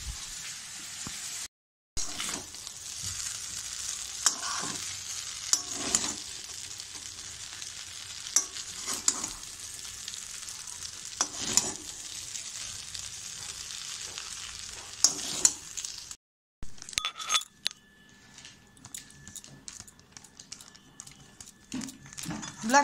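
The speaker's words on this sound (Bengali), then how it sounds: "আর এখানে ফুলকপি আর আলু পেঁয়াজ কাঁচা লঙ্কা ভাজছি" Cauliflower, potato, onion and green chili fry in a pan, a steady close sizzle broken by repeated stirring scrapes, with two brief silent cuts and sharper clatter near the end.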